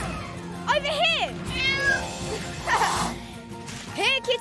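Cartoon cat meowing in a children's animated scene, a few rising meows heard near the start and again at the end, with characters calling out between them.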